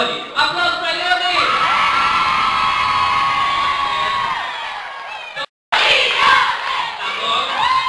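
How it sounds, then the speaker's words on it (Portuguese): An audience at a nursery Christmas party shouting and cheering loudly together, a sustained crowd roar of mixed voices that dips briefly before erupting again. "Ione, aplausos para Ione!"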